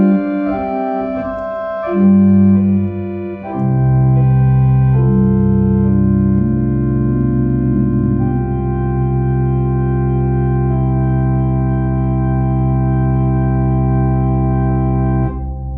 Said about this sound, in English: we have an 8-foot open diapason, which sounds like this